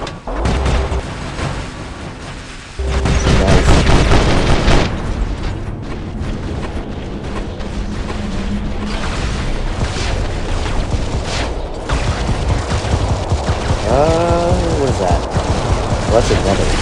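Robot weapons fire and explode in the War Robots video game, with loud booms and bursts across the whole stretch, heavier after the first few seconds, while a player talks in places.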